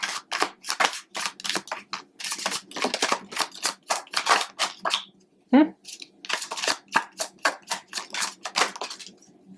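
Tarot cards are shuffled by hand in quick rhythmic riffles of crisp, papery flicks, with a short pause and a brief voice partway through.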